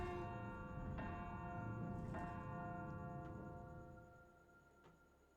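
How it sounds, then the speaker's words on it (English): A bell in an old bell tower in a video game rings with a sustained metallic tone, with several soft repeated strikes over a low rumble, slowly fading away. "Ring the bell?"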